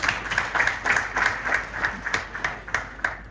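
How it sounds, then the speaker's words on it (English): Audience at a Tobacco Research Board rebranding event to Kutsaga claps, with a fairly small group of distinct hand claps falling into a loose rhythmic pattern, close and moderately loud, no talk over it. "I appreciate you acknowledging and clapping for that"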